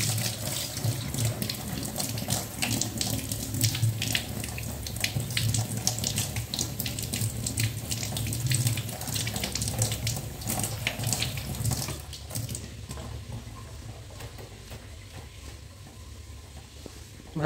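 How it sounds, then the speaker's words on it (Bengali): Tap water runs steadily into a sink while holy basil leaves are rinsed under it, splashing and pattering close by; the flow stops near the end, leaving only faint dripping. "তুলসী পাতাগুলো প্রথমে ধুয়ে নিই"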